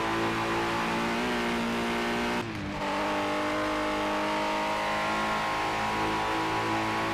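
Ford Capri race car in the Project Motor Racing game, engine howling loud and continuous under load, briefly cutting out for a gear shift before revving back up and holding a steady high-pitched drone.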